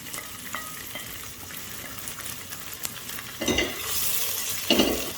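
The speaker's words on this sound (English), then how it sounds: "We will saute for about 30 seconds." Ginger, garlic and green chili sautéing in a pan for fish curry, a steady close sizzle with a few spatula scrapes and louder bursts of stirring near the end.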